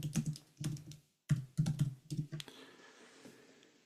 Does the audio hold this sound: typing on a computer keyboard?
yes